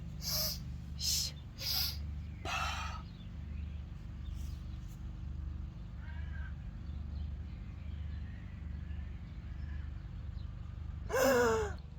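Deep breathing exercise with sharp, audible inhales and exhales: a few quick breaths at the start, a longer breath soon after, then a quiet held stretch before another strong breath near the end, all close and over a low steady hum.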